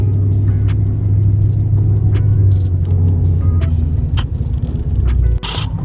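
A BMW 650i with a Stage 2 tune idles steadily to charge its battery, a continuous low engine drone holding throughout with scattered clicks and a brief dip near the end.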